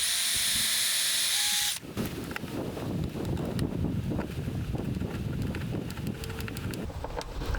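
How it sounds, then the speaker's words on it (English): After a brief steady hiss, a power drill whirs in close, uneven bursts with clattering and scraping as it bites into material, drilling a screw hole while installing a shutter hinge. "I'm only going to be drilling to where the mark is on the tape."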